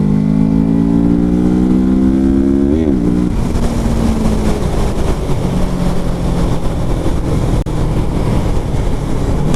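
A Kawasaki Z650 motorcycle engine revs up and accelerates hard, rising pitch climbing steadily, then shifting and settling into a sustained loud drone with wind rush, close and continuous.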